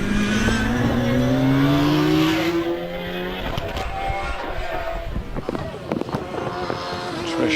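A hillclimb race car with a TKD YV8 2-litre engine accelerates hard at Harewood, its rising engine note climbing through gears, then fading with distance into crowd and ambient noise.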